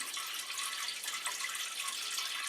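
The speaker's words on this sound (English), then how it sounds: "slowly pour water into the bowl until it stops rising" Water poured slowly and steadily into a toilet bowl, a continuous close trickling splash that holds an even level throughout with no voices.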